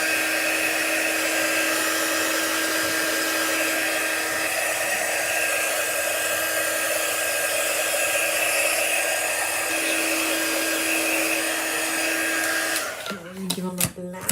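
A hair dryer runs steadily and close while drying a painted chalk craft piece, then clicks off near the end with a few handling clunks.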